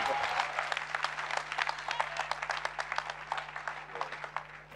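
Steady applause from a congregation at a church testimony service, dense clapping that runs unbroken for the full length at moderate volume and tapers slightly toward the end.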